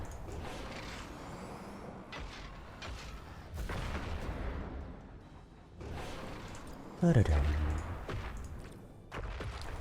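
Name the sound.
coil gun shots firing in the video game Worbital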